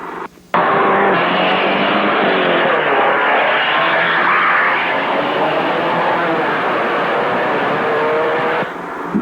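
Engines of production race cars at the 1960 Lake Garnett Grand Prix, including a Daimler, roar loudly and steadily after an abrupt start, with a commentator talking over the din.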